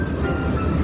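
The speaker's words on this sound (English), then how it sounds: "This engine pulls its freight cars out of the yard after they have been coupled." A freight train engine hauls its coupled cars out of a rail yard, a steady low rumble and rolling clatter that stays loud and even throughout the short stretch.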